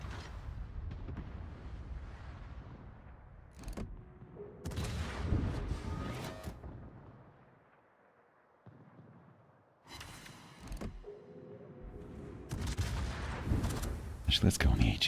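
Warship gun turrets fire in World of Warships, several deep booming salvos arriving in bursts across the stretch with a low rumble between, mid-level and somewhat distant in a game soundscape.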